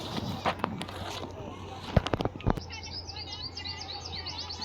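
Quick high chirps and tweets of an exotic bird in the second half, with footsteps and scuffing sounds earlier, at Harsiddhi Van park in Porbandar, Gujarat.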